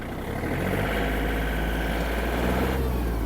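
The diesel engine of a Yanmar RS-27 mini tractor runs in a close, loud, steady rumble that builds slightly in speed and intensity as it is revved up.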